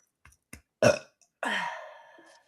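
Two faint clicks lead into a short gulp and then a long, raspy burp that trails off, fairly quiet and close, with no talk over it.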